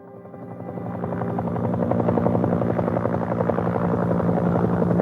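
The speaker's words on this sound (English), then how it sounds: "flying by helo out to the dry valley" Helicopter flying out to a dry valley in Antarctica, its rotor thumping loudly and steadily under a dense engine drone that swells slightly over the first couple of seconds and then holds, with no voices.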